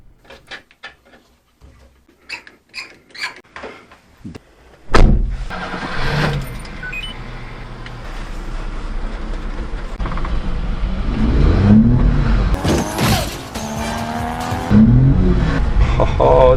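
Minitruck engine after an airbox intake mod, starting up loudly after some clunks and knocks, then revving hard in rising and falling surges, with voices talking nearby.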